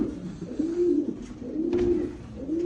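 Andalusian racer pigeons coo close by in three repeated, rolling calls, low and throaty, over faint background noise.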